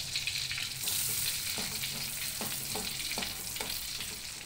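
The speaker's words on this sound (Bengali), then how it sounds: "এতে আমি দুটো শুকনো লঙ্কা ফোড়ন দিচ্ছি, আর ফোড়নে দিচ্ছি একটা বড় তেজপাতা" Two dried red chillies and a large bay leaf sizzle in hot ghee and oil, a steady bright crackle with a few faint stirring taps and no talking.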